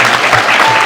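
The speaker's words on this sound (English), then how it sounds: "Let's give them a round of applause." A crowd at a game expo panel in Albuquerque breaks into loud, close applause, with brisk dense clapping filling the brief moment.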